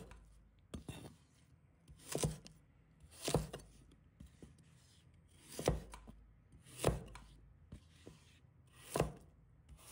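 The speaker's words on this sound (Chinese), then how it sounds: "再准备一个去皮芋头，把它切成小块" Peeled taro being chopped into small pieces with a knife on a cutting board: about eight distinct, sharp chops spaced roughly one to one and a half seconds apart, close and clear with no talking.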